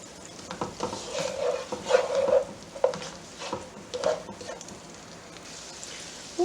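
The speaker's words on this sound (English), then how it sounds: "Now I'm going to add in my onions and garlic." Diced onions and garlic sautéing in an Instant Pot, soft sizzle under repeated spoon stirs and scrapes with a few louder clacks, close and fairly even over several seconds.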